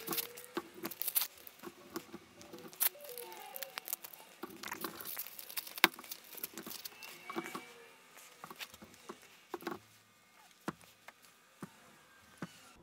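Plastic crinkles, rips and pats as a Pokemon Chilling Reign card blister pack is torn open nearby, in irregular scattered bursts with brief pauses between.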